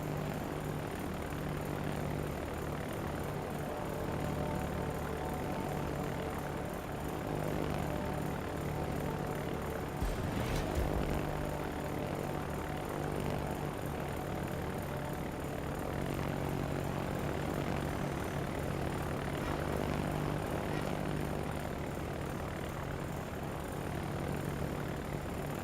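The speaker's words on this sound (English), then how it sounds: "Fighter airborne." A fighter plane's propeller engine drones steadily in a World of Warships naval battle, a continuous airborne hum with a brief swell near the middle and no voices over it.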